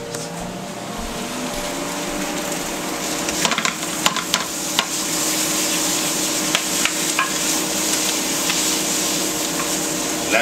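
Beet greens sautéing lightly in a pan, a steady close sizzle with scattered clicks and scrapes of stirring throughout, no voices.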